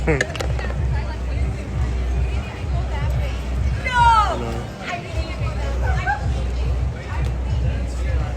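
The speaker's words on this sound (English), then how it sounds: "just showing the crowd and the activities here at Anime Corpus Christi in Corpus Christi, Texas" Indoor crowd at the Anime Corpus Christi convention in Corpus Christi, Texas, a steady hubbub of many overlapping voices and chatter with a low rumble beneath and occasional louder nearby calls.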